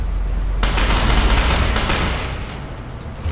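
Rapid bursts of gunfire in the video game Ghost Recon erupt after a brief lull, dense and loud volleys of shots that gradually ease off, heard alone.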